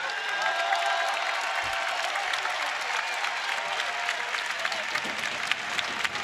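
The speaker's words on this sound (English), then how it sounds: "Lots of applause here. Everybody appreciated that." A crowd at the 2015 jiu-jitsu world championships applauds after a match between Keenan Cornelius and Leandro Lo, with sustained loud clapping and a light wash of cheering lasting about six seconds.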